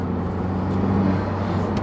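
The engine of a Honda Civic Type R drones steadily at around 3,500 to 4,000 rpm while driving, heard from inside the cabin. It is a constant low hum with no voices.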